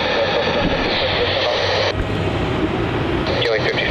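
A Qantas airliner takes off from runway 27 at Melbourne Airport, a steady loud roar of jet engines throughout, with air traffic control radio chatter over it.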